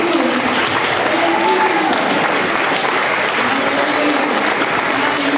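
A Baptist church congregation in Barra da Estiva, Bahia, claps steadily and densely throughout a celebration service, with voices rising over the dense applause.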